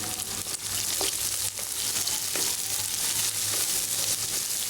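Onions frying in a pan for a potato and spinach curry, giving a steady, close, dense sizzle with faint stirring clicks throughout and no voices.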